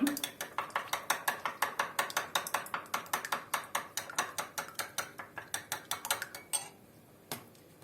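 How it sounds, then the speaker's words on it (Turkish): A whisk beats a soup mixture of Turkish mock tripe soup in a pot, giving quick, evenly spaced clinks and scrapes that slow and thin out near the end. The sound is close and moderately loud, with no talk. "Güzelce çırpıyorum."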